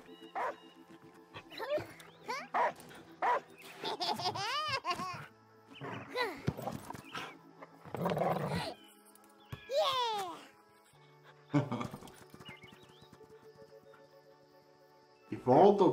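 Dog barking, yipping and whimpering in the video game Last Day of June, several sharp barks and whines scattered among game sounds, with a person talking in between.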